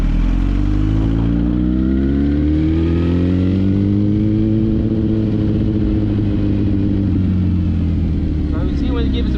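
Sportbike motorcycle engine idling then rising in pitch as the throttle is opened gently and the bike starts moving off, loud and close with a steady humming drone throughout.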